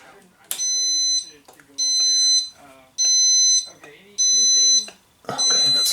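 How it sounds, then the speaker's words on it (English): A BMW R1100 motorcycle's alarm sounds in a steady on-off pattern: five loud, piercing electronic beep bursts, each roughly half a second long, separated by short pauses. "okay, that's alarm on."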